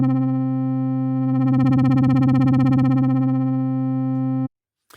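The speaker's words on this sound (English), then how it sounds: "as I adjust the mod wheel, you'll hear that LFO modulation comes in" A sustained Serum synth tone holds steady, then LFO modulation from the mod wheel adds a fast pulsing wobble that swells and fades before the note cuts off abruptly.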